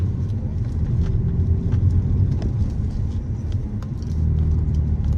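Steady low road rumble with tyre noise heard from inside a BMW E63 on rough UK roads, continuous and moderately loud with no speech.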